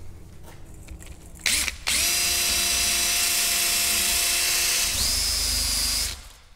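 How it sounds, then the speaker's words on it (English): A power drill fitted with a wire wheel cleans the grooves of a 2012 Subaru Forester rear brake caliper bracket, a steady high whine lasting a few seconds after a short start, then winding down, close and loud. "I'm just gonna take my drill with a wire wheel on it, and we're just gonna clean these grooves out"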